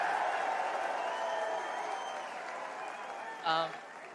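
A Perth crowd at the UFC 305 press conference cheers and applauds in a sustained, dense wash of clapping and voices that tapers off slightly, ending with a brief sharper burst.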